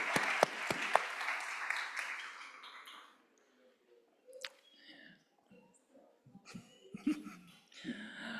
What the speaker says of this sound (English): let's give them one more big round of applause for all of our graduates this year